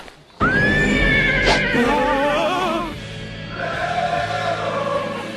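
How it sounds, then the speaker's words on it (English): A horse lets out a loud, long whinny with a wavering pitch, followed by softer snorting and background noise. "Didn't know Freddy had a horse"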